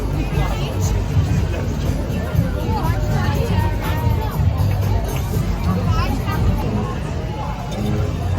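Crowd hubbub at the Liverpool winter market, a dense, steady babble of many voices mixed with outdoor bustle, continuous and fairly loud throughout.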